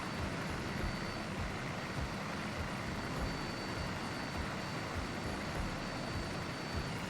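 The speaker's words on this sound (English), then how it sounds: "It's a funny helicopter, Barker." A helicopter cruises in the FlightGear flight simulator over Corsica with a dense, steady rotor and engine roar that holds at the same loudness throughout, with no voices.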